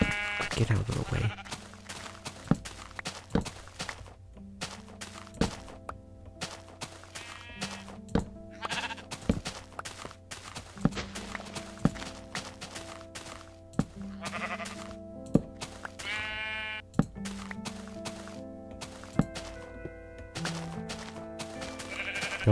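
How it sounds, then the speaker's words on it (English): A brown sheep in a blocky video game bleats repeatedly over steady game music and clicky thunks, close and clear. "that's a brown sheep"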